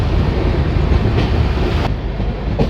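A Garib Rath Express passenger train on the Kolkata–Guwahati route runs along the tracks, heard from inside as a loud, steady, close rumble with rhythmic clatter and no voices.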